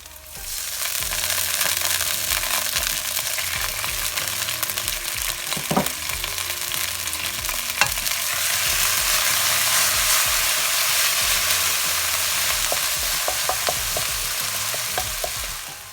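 Beef and broccoli stir-fry sizzles steadily in a hot pan after rice wine goes in, with a loud continuous frying hiss and occasional clicks and scrapes of a utensil stirring.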